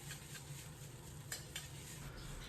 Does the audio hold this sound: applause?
no